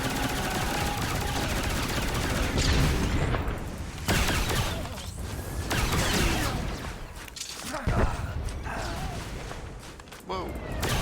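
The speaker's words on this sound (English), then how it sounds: "So I use some rockets." Rocket fire and explosions from a Star Wars video game set on Alderaan, loud, dense booms and blasts that keep coming for the whole stretch, with no clear talking.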